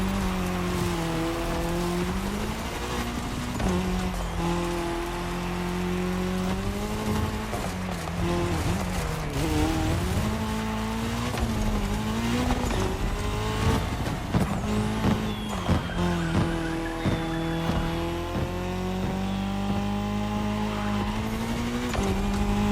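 Race cars in The Crew Motorfest roar through a cross-terrain race, engines droning steadily with rising and falling pitch as they shift, and tires squealing now and then, loud and continuous throughout.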